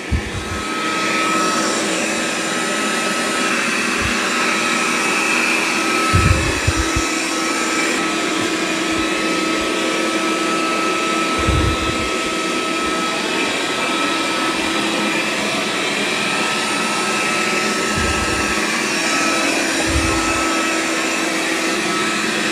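A Dreame robot vacuum runs over carpet with a continuous loud whirring suction drone, broken by several brief low thumps as it bumps and shifts along.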